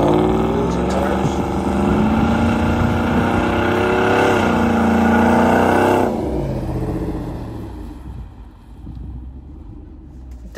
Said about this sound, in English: here's our first attempt at doing the burnout.